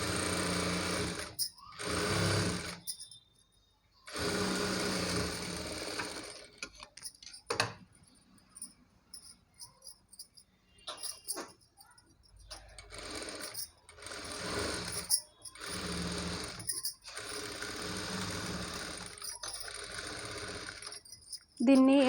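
A sewing machine stitches a puff sleeve onto the main fabric panel, its needle chattering in repeated short and longer bursts separated by quiet gaps, close and clear throughout.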